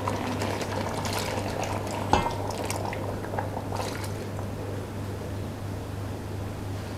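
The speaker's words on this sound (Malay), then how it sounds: "kita tengok ketam kita pun dah mendidih" A pot of crab curry bubbles and simmers steadily, a soft continuous gurgle of boiling liquid with a faint hum underneath and no voices.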